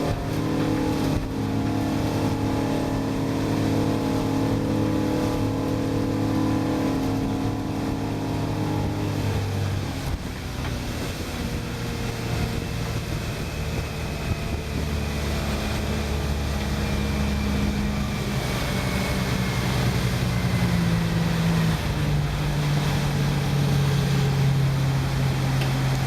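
A motorboat runs at about full throttle, its engine a loud, steady, close drone with a strong low hum, shifting pitch midway and rising slightly toward the end, with water noise beneath and no talk.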